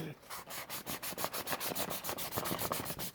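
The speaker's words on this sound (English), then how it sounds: "once you got your pieces, it's sure you gotta sand these around there" Sanding the edges of a cut cosplay head piece gives a steady series of close, rhythmic rasping strokes, about five per second, heard alone.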